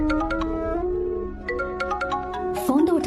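A phone ringtone plays in a Hindi-dubbed action thriller film scene, a repeating pattern of bright electronic tones over a steady musical bed, with a brief burst near the end.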